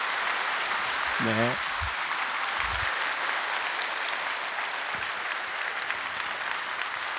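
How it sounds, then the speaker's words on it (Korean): A church congregation claps steadily in encouragement for a pastor, a broad wash of applause throughout while someone briefly speaks over it. "여러분들 큰 박수로 격려하고 축복해 주시기 바랍니다"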